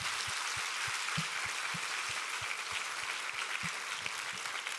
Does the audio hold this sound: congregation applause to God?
yes